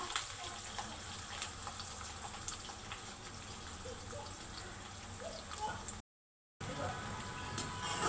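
Chopped onion pieces fry in hot oil with curry leaves for an onion tomato curry, a soft, continuous sizzle with a brief dropout near the end.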